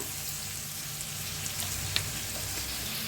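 Roasted ghevda beans are mixed into a pan of frying vegetables for a Bhogi dish, giving a steady, close sizzle with a few faint stirring clicks throughout.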